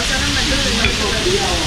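Raw beef and rice sizzle loudly in a red-hot stone pot at a Taiwanese restaurant, a dense, steady close hiss and crackle with no pauses.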